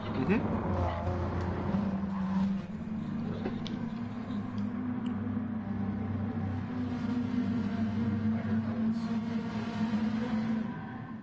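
Ferrari GT race cars in a GT World Challenge round at the Nurburgring, a steady loud engine drone with sustained tonal bands throughout, likely several cars running together with no gaps.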